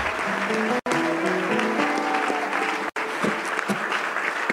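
A church congregation applauds loudly with sustained clapping while a voice rises over it, and the sound cuts out briefly twice.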